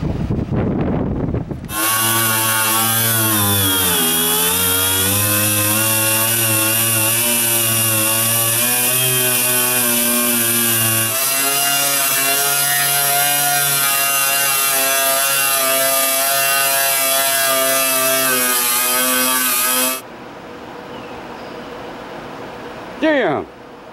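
An angle grinder fitted with a wire wheel works steadily over the aluminum hull of a jon boat, a loud, continuous whine with a shifting drone that runs unbroken for about eighteen seconds, then cuts off.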